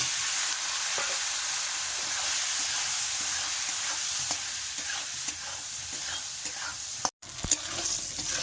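Eggplant slices fry in hot oil with a dense, continuous sizzle, while frequent stirring scrapes run through it, briefly cut by a short dropout near the end.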